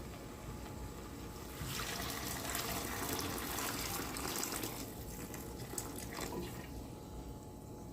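Steady running water poured into a pot for a sardine and vegetable soup with misua noodles, a continuous close splashing stream for several seconds, with no voices.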